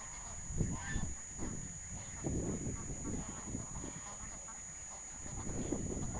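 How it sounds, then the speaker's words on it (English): Ducks quack and honk repeatedly at close range over a steady background hiss, irregular calls clustering throughout. "It sounds like the ducks are pretty close."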